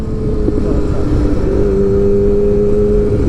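A first-generation Yamaha R6 on its stock exhaust pulls hard under acceleration, a steady loud engine drone with a rising tonal whine heard from close by, no speech.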